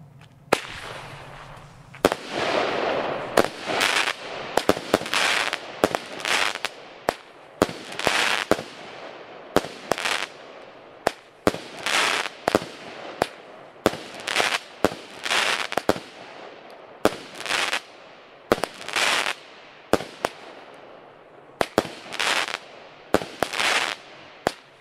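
A Kalejdoskop consumer firework cake fires in a rapid series of loud, sharp shots, each burst followed by dense crackling, repeating in clusters with brief gaps between volleys.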